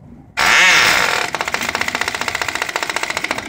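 A small Cox glow-fuel model airplane engine bursts into life with a loud roar, then settles into a rapid, even buzzing run, close by.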